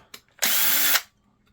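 A power drill whirs loudly for about half a second after a couple of short clicks while scrapping old PCs, then stops abruptly into quiet.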